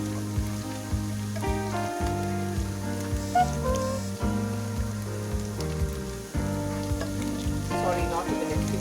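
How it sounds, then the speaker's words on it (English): Garlic fries briefly in a pan for a crispy honey chicken dish, a hissing, rain-like sizzle running steadily beneath prominent tonal background music. "just a few seconds you fry the garlic"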